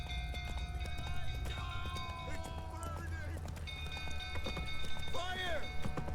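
Hooves clip-clop at a quick gallop from a horse in the video game The Witcher 3, running steadily under a layered musical score with occasional tonal effects and talk.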